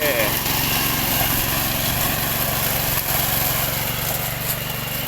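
A Thai-made ride-on lawn mower's engine runs steadily and loudly throughout, a continuous close drone with a constant pulsing low hum.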